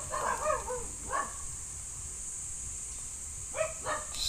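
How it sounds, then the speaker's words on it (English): Dogs bark in a few short bursts, faint and somewhat distant, with a steady high hiss and quiet gaps between the barks. "My dogs are barking."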